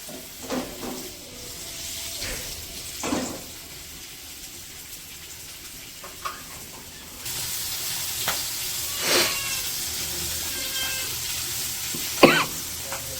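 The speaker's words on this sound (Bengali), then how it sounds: "মাছগুলো ভাইজা নেই।" Fish frying in oil, a soft steady sizzle with brief stirring scrapes and a faint cough in the background, growing slightly louder partway through.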